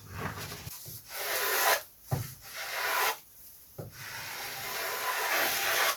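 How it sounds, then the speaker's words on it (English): Hand plane shaving wood for a vintage aerobatic model glider, with repeated long rasping strokes separated by brief pauses, close and steady, with no talking. "So now just start planing away."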